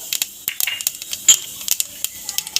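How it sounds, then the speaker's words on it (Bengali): Black cumin seeds hit hot oil for tempering, a close burst of crackling pops and sharp sputters scattered irregularly over a couple of seconds. "আমি কালো জিরে দিয়ে নেবো তেলের মধ্যে ফোড়ন দেওয়ার জন্য"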